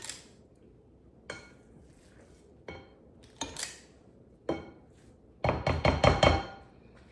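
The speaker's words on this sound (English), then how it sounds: "Just easier to scoop it with this scoop." Scooping vegan quinoa meatloaf mixture gives a few scattered soft knocks and scrapes of a scoop against a pan, ending in a denser burst of clinking and scraping near the close, with no talk.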